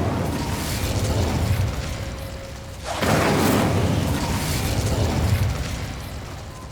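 Incendio fire spell cast in Hogwarts Legacy, a sustained roaring whoosh that swells into a loud burst midway and then rumbles on, with no talk over it.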